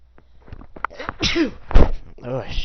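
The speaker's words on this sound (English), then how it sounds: "I gotta sneeze." A single loud, close sneeze bursts out about two-thirds of the way through, surrounded by a person's breathing and mumbled vocal sounds.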